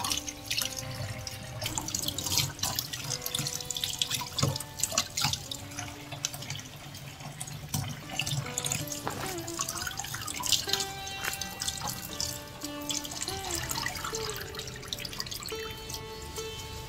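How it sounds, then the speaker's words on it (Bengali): Tap water runs steadily into a sink while freshly picked pumpkin leaves are washed by hand, with continuous close splashing and dripping and some light clatter, no voices. "এখন ধুয়ে নিচ্ছি।"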